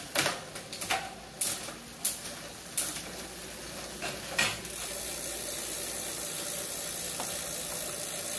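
Rapid mechanical clicking from the gear shifter on a DEUNHILL JIAWU 1895 mountain bike, several quick ratcheting bursts close up, followed by a steady quieter hiss.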